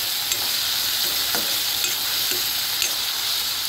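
Onion and tomato frying in a pan, a steady bright sizzle with occasional soft stirring scrapes, close and continuous with no talk.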